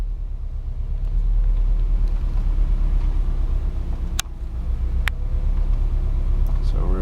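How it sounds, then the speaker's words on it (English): A Subaru car driving in a slow 360-degree circle at about 5 mph, heard from inside as a steady low engine and road rumble with a couple of brief clicks, while people talk over it. "So we're driving in a circle right now until this thing calibrates."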